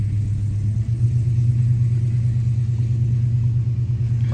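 A 2010 5.7 Hemi V8 idles in a 2011 Dodge Charger, a steady, deep, throbbing rumble held at constant loudness throughout, close and alone.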